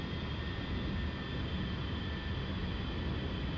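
An A-10C Warthog jet in the DCS World flight simulator comes in to land on a short runway on the Nevada map, its engines giving a steady, even roar from start to finish.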